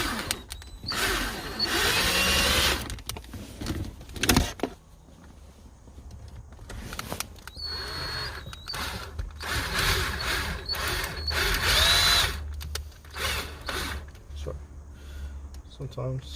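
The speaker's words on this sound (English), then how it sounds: "So this is the part where a drill comes in handy" A power drill drives small tapered screws while an aftermarket head unit is fitted into a Ford BA/BF or Territory dash, several short whirring bursts with clicks and rattles in between, close up, with talk in places.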